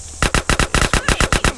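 Rapid automatic gunfire in the video game MTA:SA, a loud burst of about nine evenly spaced shots fired in quick rhythmic succession.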